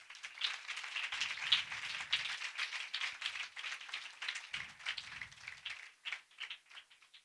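A church congregation at a pastor's sermon bursts into sustained applause, dense rapid clapping from many hands that swells and then trails off into scattered claps.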